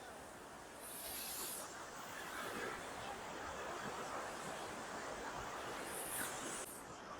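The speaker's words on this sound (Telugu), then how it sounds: "అలలు తాకిడి మార్నింగ్ టైంలో చాలా బాగుంది" Morning sea waves wash in and break on Serenity Beach in Pondicherry as a steady, faint surf hiss that rises and falls, with soft distant voices.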